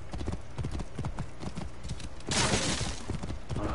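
Rapid hoofbeats from a galloping horse in the video game Assassin's Creed Origins, steady and fairly loud, with a sharp burst of noise partway through.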